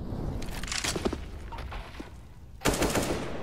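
Rapid AK rifle gunfire from a CS:GO match on the Mirage map during a pro league game, bursts crackling loudly and close with a sharp, heavier volley near the end.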